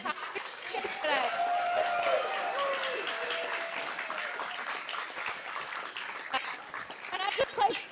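A crowd applauds the speakers at an Astro on Tap astronomy talk evening: sustained clapping with voices and cheering layered over it, swelling again near the end.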